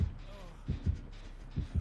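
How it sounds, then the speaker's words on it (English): Killer's heartbeat warning in the video game Dead by Daylight: deep, muffled paired thumps that repeat at a steady pulse against a low hum. "why is his heartbeat near?"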